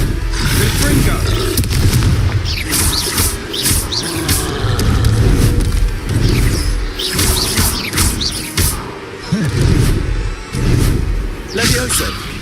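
Heavy, loud booms and crashing blasts from the Confringo explosion spell in Hogwarts Legacy repeat through the clip, mixed with game noise and a voice shouting spell names.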